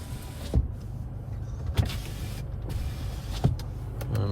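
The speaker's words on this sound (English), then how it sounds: "Obviously electric windows will work perfectly." Electric windows on a 2018 Nissan Navara 2.3 dCi Tekna whir as they operate inside the cab, a steady motor hum broken by three distinct thunks as the glass stops, close and moderately quiet with no talk.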